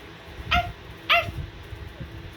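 Human voice imitating a dog barking at a stranger, two short sharp woof-like barks close up, with a faint third sound trailing after.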